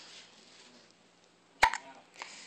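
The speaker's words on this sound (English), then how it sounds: "Hiccups, as always." A three-week-old baby gives a single sharp hiccup, close and quiet, with a softer second catch a moment later against a hushed room.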